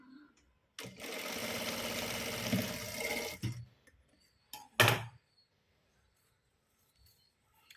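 A close sewing machine hums and rattles loudly for about two and a half seconds as it stitches a garment's armhole, then stops, followed by a few sharp handling clicks and near silence.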